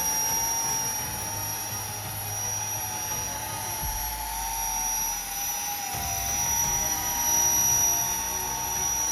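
A 3D-printed RC jet model flying, its small jet engine giving a steady high-pitched whine with a continuous roar beneath, holding level and wavering slightly in pitch and loudness as the plane moves.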